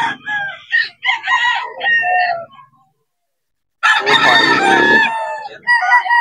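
Roosters crow loudly and close at a farm keeping fighting chickens in Bocaue, several harsh strained calls in quick succession, with a brief silent gap before another long crow and clucking.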